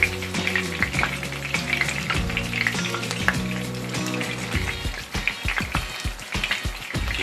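Ostrich burger frying in a pan, a steady close sizzle with crackling spatters, broken by scraping and knocks as tongs turn the patty toward the end.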